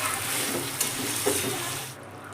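Chicken and pre-fried potatoes are sautéed and stirred for a Bengali dum aloo, giving a dense, continuous sizzle with a couple of soft scraping strokes before it suddenly quietens.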